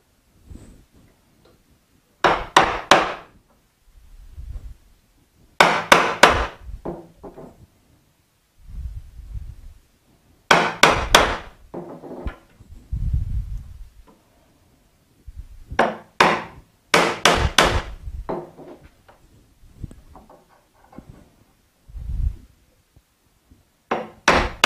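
A wooden mallet strikes a chisel cutting a rabbet in wood, with sharp close knocks in quick clusters of two to four, separated by short pauses and softer scraping.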